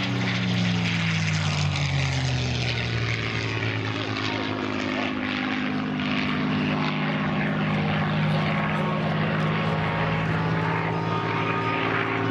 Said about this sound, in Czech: Nejslavnější a nejlepší britské stíhací letadlo, které se stalo ikonou britského královského letectva za druhé světové války.